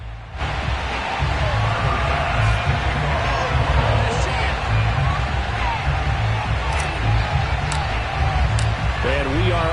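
Sold-out stadium crowd at a Bills versus Jets game in Madden on PS5, a continuous roar of cheering behind play-by-play commentary, with a few sharp whistles and whoops rising above the crowd.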